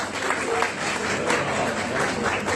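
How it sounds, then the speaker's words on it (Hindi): An audience at an Azadi Ka Amrit Mahotsav inauguration program in Delhi gives performers a steady burst of clapping, continuous and fairly close throughout. "इनके लिए जोरदार ताली।"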